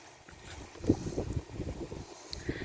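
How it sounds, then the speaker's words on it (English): Strong wind buffets the microphone outdoors at a drought-stricken pumpkin garden, rumbling in low, uneven gusts with no one speaking. "It is so windy"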